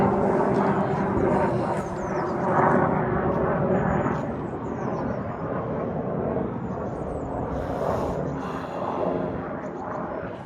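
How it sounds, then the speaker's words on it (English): Helicopter flying overhead above an old cemetery in Guildford, a steady broad rotor-and-engine rumble that stays loud throughout, with outdoor wind and background noise. "There's a helicopter there."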